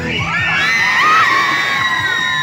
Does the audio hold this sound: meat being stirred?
no